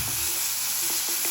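Masala sizzling in a pan with mayonnaise and schezwan chutney, a brief continuous crackle carrying a few soft utensil taps, no voices.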